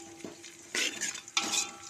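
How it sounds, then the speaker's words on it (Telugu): Dried red chillies, curry leaves and green chillies fry in hot oil in a pan while being stirred, giving two loud bursts of sizzling and spatter between quieter scraping stirs, with no talking. "ఇవన్నీ ఇట్లా మంచిగా వేపుకోవాలి."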